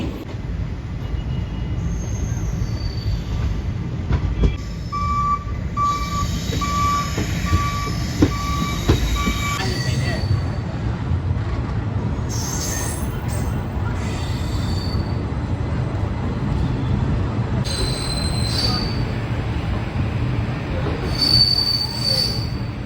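An express train rumbles steadily on the rails between Tiruchendur and Chennai Egmore, with high metallic wheel squeals and intermittent beeping tones, loud and sustained throughout.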